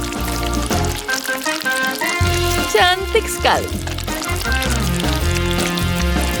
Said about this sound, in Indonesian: Sekarang mari kita siram semuanya.